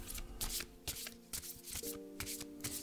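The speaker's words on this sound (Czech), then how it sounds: "Tak si je zamícháme." Tarot cards are shuffled by hand in quick riffling bursts and soft slaps, close and fairly quiet, with gentle music in the background.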